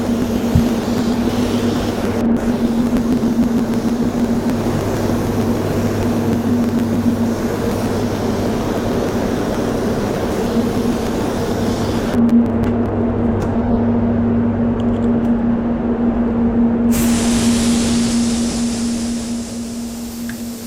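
Compressor-fed spray gun coating a car bumper with base coat, a steady loud hiss with a constant motor hum underneath, running almost nonstop with a couple of brief pauses and no talking.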